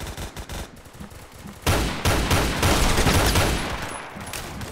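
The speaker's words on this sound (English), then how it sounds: "Alright, who's shooting?" Gunfire in the Roblox game Phantom Forces: a few scattered shots, then a loud, sustained burst of rapid automatic fire that tapers off toward the end, with no voices.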